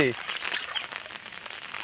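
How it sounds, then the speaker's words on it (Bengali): Heavy rain pours steadily over a village pond, a dense, even hiss that stays loud and close throughout, with a brief voice-like sound at the very start. "প্রচুর বৃষ্টি হচ্ছে, প্রচুর বৃষ্টি।"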